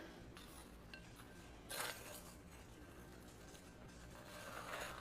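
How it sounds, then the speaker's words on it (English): Caesar dressing being stirred into chopped chicken salad in a bowl: soft scraping and light clinks of a utensil against the bowl, quiet and close, with a brief louder scrape midway. "Give this a nice stir."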